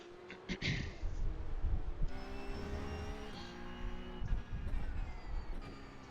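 Engine of a Porsche 911 Cup (992.2) race car in a racing video game at Hockenheim, revving and shifting through gears as it powers out of a turn, moderately loud and continuous.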